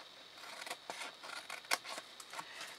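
Scissors snip through paper while trimming flaps for a Ferrero chocolate box craft, a close, quiet run of short crisp cuts in an uneven rhythm, with no talk.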